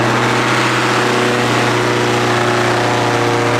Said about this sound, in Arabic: تعالوا نشوف اول تشغيله لمحرك الهيلكات ريد اي